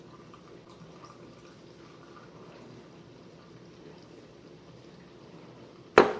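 Kefir is poured through a small net into a glass, a soft continuous liquid trickle close by, ending in a brief sharp clink.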